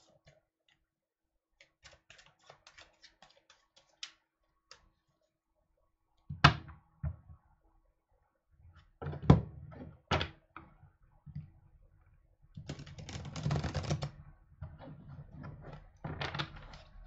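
Tarot cards being shuffled by hand close up, with soft riffling and tapping bursts separated by quiet gaps, no voices over them.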